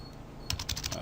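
Quick, light tapping on a computer keyboard while typing HTML code, a short run of soft, close keystrokes in a quiet room.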